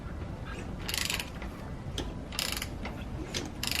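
A C6 Corvette engine cranked over by hand with its spark plugs out, giving close mechanical clicks and ratchet-like bursts in uneven strokes over a low background rumble.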